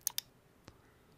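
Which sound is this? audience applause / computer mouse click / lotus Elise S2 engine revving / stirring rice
computer mouse click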